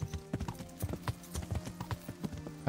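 A horse's hooves clip-clop in the video game Kingdom Come Deliverance, with brisk, fairly regular hoofbeats at close range over a low steady hum.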